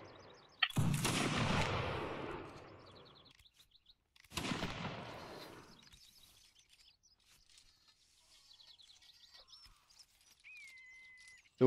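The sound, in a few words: musket volley fire at Waterloo anniversary reenactment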